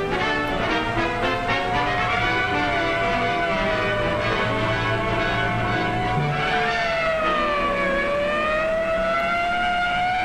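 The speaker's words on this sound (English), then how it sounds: "Yeah, you use your siren straight up to the front door so they know you're coming in that way." A police car siren from a 1950s training film wails in long, rising and falling sweeps. It carries on continuously and fairly loudly for about ten seconds, with no voices over it.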